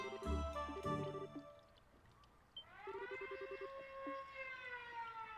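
A video game siren wails in rising and falling harmonic tones, with a pulsing buzzy undertone, loud and continuous with a short dip partway through.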